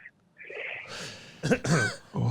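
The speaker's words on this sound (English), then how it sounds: "I've just got this sort of niggling cough." A niggling cough, heard as a few short throaty coughs and throat clearing up close, broken by brief quiet gaps, with a voice at the start.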